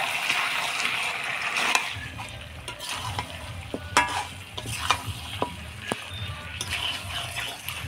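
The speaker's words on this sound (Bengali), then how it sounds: "ভাজা বাটা মশলাটা দিয়ে ভালো করে নাড়াচাড়া করে নিব।" A pan of chicken curry being stirred after fried ground spices are added, with a continuous sizzle under scraping spoon strokes and a few sharp clinks against the metal, close and alone without speech.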